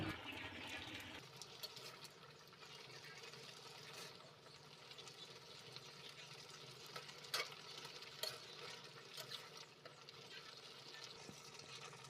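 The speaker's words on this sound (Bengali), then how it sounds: "এবার ঢাকনাটাকে উঠিয়ে তরকারিটা নেড়ে চেড়ে দেবো" A gourd and shrimp curry simmers quietly in a pot as it is stirred, giving a faint, steady bubbling hiss broken by a few soft scrapes and clicks.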